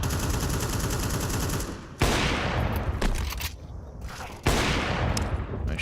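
Gunfire in a professional Counter-Strike match at the BLAST Bounty tournament: dense, loud volleys of rapid rifle shots, cut off abruptly twice, then resuming in fresh bursts.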